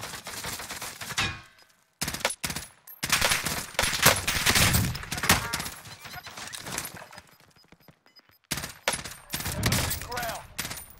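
Bursts of M16 rifle fire in Call of Duty Warzone, loud rapid volleys separated by brief silences, with a cluttered mix of other game sounds throughout.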